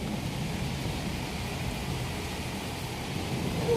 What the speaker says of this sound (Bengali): প্রচুর পরিমাণে বৃষ্টি হচ্ছে আর তার সাথে বজ্রঘাত প্রচুর পড়ছে